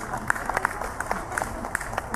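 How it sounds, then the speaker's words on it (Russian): Audience clapping steadily while band members are introduced before a soul concert, a dense patter of hand claps with brief louder accents and no voices standing out. "Хлопайте, не останавливайтесь."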